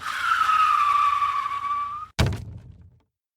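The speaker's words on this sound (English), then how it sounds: "I had to slam on the brakes or I would have plowed right through it" A car brakes hard with a long, loud tire squeal lasting about two seconds, then a heavy thump and rumble of impact as it stops, followed by silence.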